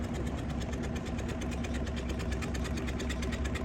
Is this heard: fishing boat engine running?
yes